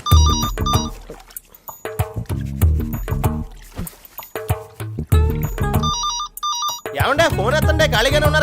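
A telephone ringtone chimes in repeated melodic bursts inside a home, loud and close, with stretches of music and voices talking around it.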